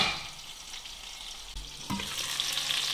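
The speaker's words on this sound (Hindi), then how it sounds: "अब हम इसको लो फ्लेम पे 2 से 3 मिनट तक ढककर पकाएंगे।" Stuffed eggplant cooks covered in a pan over a low flame, giving a steady soft sizzle throughout with one dull knock partway through.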